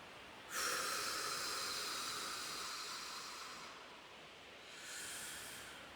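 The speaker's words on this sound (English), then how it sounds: "I'm just taking a deep breath. And just breathing out" Slow, deep breath drawn in and then released during a guided meditation, a soft airy hiss that swells, holds for a few seconds, and tapers before a second gentle breath begins.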